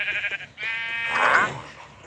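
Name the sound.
sheep bleating in Minecraft video game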